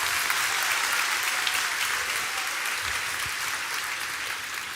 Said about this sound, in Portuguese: Pode ser mais alto as suas palmas.